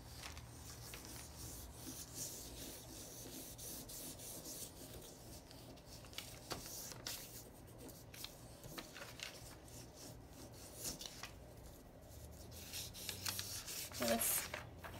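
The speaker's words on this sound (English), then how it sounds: "My crayon is laying on its side." A crayon laid on its side is rubbed back and forth across paper over a leaf, making a soft, continuous scratchy rasping close by, with faint scraping strokes throughout.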